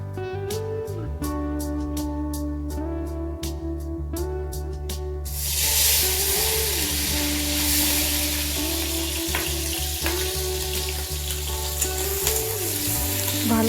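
Prawns dropped into hot oil burst into a loud, dense sizzle that continues steadily with crackling spatters, close up, following a stretch of quieter frying and tapping.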